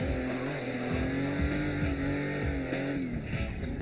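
A drift car on an uphill stretch, brake-stabbed with the e-brake so the tires skid: a loud, continuous engine drone with a wavering pitch and a rough tire-scrub roar throughout.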